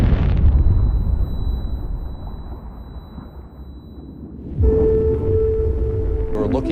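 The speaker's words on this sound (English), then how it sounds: "Oil and gas escapes from the wellhead and rushes up to the platform, where the gas explodes." Gas explodes on the Deepwater Horizon drilling platform as oil and gas rush up from the wellhead, a deep rumbling roar that fades over several seconds before a second sharp burst of noise.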